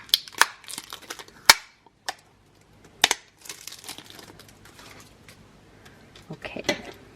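Protective plastic film is peeled off the cover of a stationery subscription box, giving close crinkling and sharp tearing crackles in scattered bursts, followed by softer rustling.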